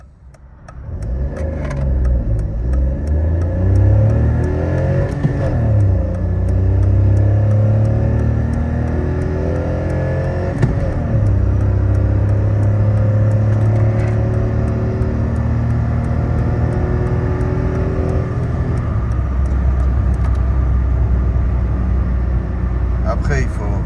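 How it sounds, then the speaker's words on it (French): Toyota Aygo 1.0 VVT-i three-cylinder petrol engine cruising at about 100 km/h, a loud, steady in-cabin drone with shifting harmonic tones as revs rise and ease, continuous throughout with a voice talking over it. "Le bruit du moteur énorme."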